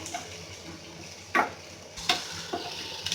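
Capsicum sautéing in a pan for a fried rice dish, a soft steady sizzle broken by a few sharp scraping stirs of a spoon against the pan, close and without speech.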